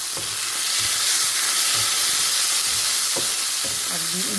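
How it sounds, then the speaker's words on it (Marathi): Leftover cooked rice tempered in hot ghee with red chili flakes and dried oregano, a steady close sizzle with a few stirring scrapes and clinks, no talking. "अगदी इझी असा तडका द्यायचा आहे राईसला"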